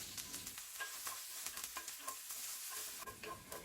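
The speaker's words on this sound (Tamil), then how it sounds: "அதில் இஞ்சி, பூண்டு, பச்சை மிளகா, கொஞ்சமாக கருவேப்பிலை இதை சேர்த்து லைட்டாக வதக்கிக்கோங்க" Ginger, garlic, green chili and curry leaves sauté in hot oil in an iron pan, a steady soft sizzle with irregular stirring scrapes and light clicks running throughout, no voices.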